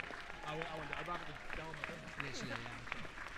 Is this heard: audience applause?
yes